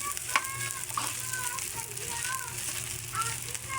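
Leftover rice frying into Filipino garlic fried rice, a soft steady sizzle with light stirring scrapes near the pan, with faint bird or animal chirps and occasional voices in the background.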